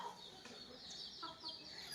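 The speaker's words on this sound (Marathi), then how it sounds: "कोंबड्या बघा कसा पितात" Free-range village hens drink jaggery water and cluck softly, a few faint scattered calls over quiet farmyard background.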